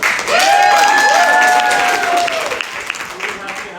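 A theatre audience applauding before a musical performance, a short burst of clapping with a sustained musical or vocal tone over it, fading after about two and a half seconds.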